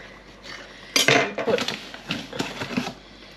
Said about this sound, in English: I'm just going to cut this into four with a butter knife